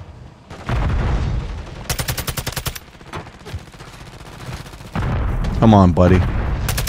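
Bursts of rapid automatic rifle fire from a TAQ-56 in Modern Warfare 3 crack loudly and close, in several separate volleys broken by pauses, while someone talks between and over the shots.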